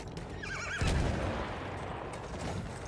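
A horse whinnying in Battlefield 1, a loud wavering neigh rising and falling near the start, followed by a thud and continuous rumbling battlefield noise with hoofbeat-like clatter underneath.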